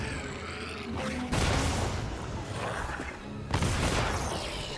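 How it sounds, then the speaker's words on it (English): Heavy booming blasts from a weapon attack in Monster Hunter Wilds, two big explosive bursts with rumbling, crackling debris between them in a dense game soundscape. "that has like a big explosion to it"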